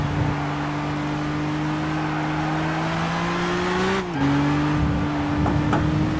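Race car engine in Gran Turismo 6, driven slowly toward a chicane: a steady, loud droning tone that dips briefly as the driver lifts off and shifts around four seconds, then settles back into an even hum, with no talk.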